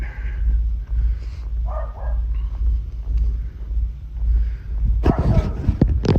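A dog barks loudly and close by in a short burst near the end, after a stretch of quiet background rumble and faint sounds.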